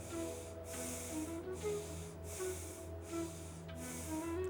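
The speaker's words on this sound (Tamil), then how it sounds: "ஒரு 3 முறை மூச்சை உள்ளெழுத்து மூச்சு வெளியே விடுங்க" Slow, deep yogic breathing, a steady series of hissing inhales and exhales cycling about every second, close and soft, with faint background hum.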